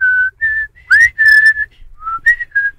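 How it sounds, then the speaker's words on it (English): A person whistles a short tune straight into a microphone: clear, loud, melodic notes in several quick phrases with brief pauses between them. "So whistling into the mic is..."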